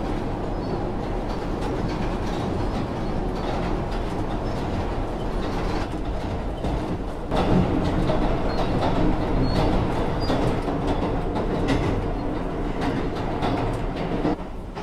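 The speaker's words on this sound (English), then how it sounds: "This is a Brooklyn-bound Q local train." A Brooklyn-bound New York subway Q local train runs continuously, with a loud, steady rumble, wheel clatter and occasional squeals heard from inside the car, and no voices.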